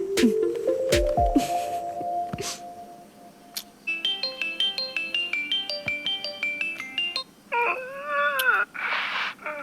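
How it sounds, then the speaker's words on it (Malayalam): A mobile phone ringtone plays as a melodic run of tones, ringing on unanswered for several seconds after brief movement sounds, loud and close. "അനുമോള് ഫോൺ എടുക്കുന്നില്ലടാ"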